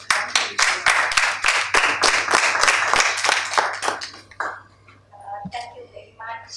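Audience applause for an introduced guest speaker at a charity campaign launch in Sri Lanka, a dense burst of many hands clapping for about four seconds that thins out, followed by a few scattered claps and a voice starting to talk.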